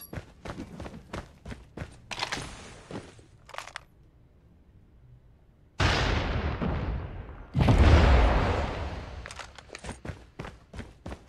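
Gunfire in a Call of Duty-style shooter, with sharp rapid shots in bursts, a pause, then heavy booming blasts and sustained loud firing, followed by more quick shots.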